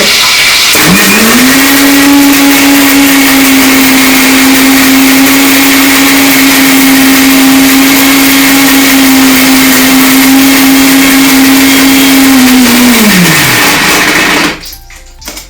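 A kitchen mixer grinder runs at full speed blending sambar masala for an avarekalu sambar, one loud, steady high whine that spins up, holds for about twelve seconds, then winds down and stops.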